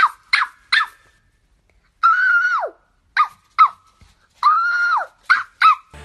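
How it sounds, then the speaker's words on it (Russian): A small dog whines and yelps in short high-pitched bursts mixed with two longer drawn-out whimpers, close and loud, alone with no talk. "Как собачка скулит?"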